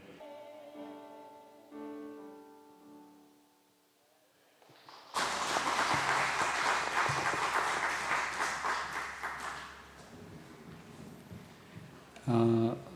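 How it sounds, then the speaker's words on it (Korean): A church congregation claps after a Bible reading, a dense burst of applause that starts suddenly after a quieter stretch of voices and music, swells for about five seconds, then fades, followed by a short loud tone. "박수는 하나님께 쳐드린 거죠?"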